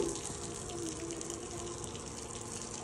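Water runs steadily from a hose pipe onto a brick courtyard in a village, a continuous broadband rush that stays even and moderately loud throughout without pause.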